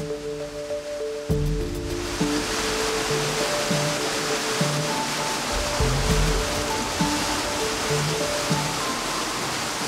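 Water gushing unexpectedly into a swimming pool basin at night, a steady loud hissing rush that starts after a moment of quieter background and continues without letup.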